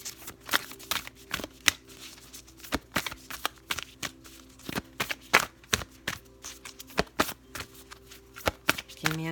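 Oracle cards from the Moonology deck by Yasmin Boland are shuffled by hand, giving many quick, sharp riffling snaps and slaps in an irregular rhythm, close and crisp.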